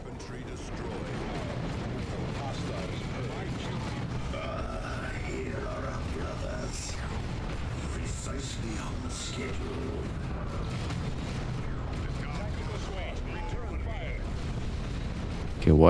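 Gunfire and explosions in Dawn of War 2 form a constant, busy battle din, with booms, mechanical clatter and rattling fire under a voice, and a louder blast at the very end.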